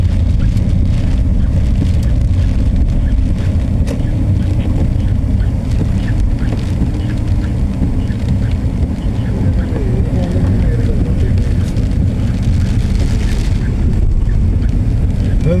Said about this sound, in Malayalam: ഇന്ന് കാറ്റാണ്